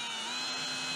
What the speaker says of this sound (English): Already have our drill ready with the 1/8 hole.